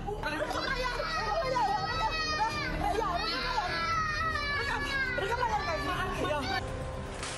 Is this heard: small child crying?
yes